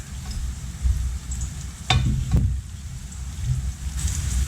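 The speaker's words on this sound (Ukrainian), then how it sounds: "поки решта баклажанів обсмажується" Eggplant slices fry in a pan for a Korean-style salad, a soft, steady sizzle with a few louder clatters of stirring midway, close and alone without any voices.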